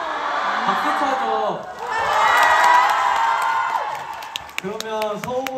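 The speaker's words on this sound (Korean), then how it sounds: "박수 쳐줘" A fan-concert crowd at a K-pop group's fifth-anniversary show cheers and whoops in a loud swell that peaks mid-way, with voices talking and shouting over the crowd noise before and after.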